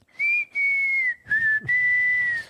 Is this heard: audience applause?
no